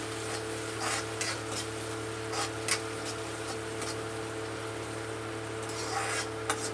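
Tomatoes sauté in a pan with fried onion, chilli and curry leaves for a cauliflower bhaji, making a constant soft sizzle with intermittent spatula scrapes and taps over a low steady hum, with no voices.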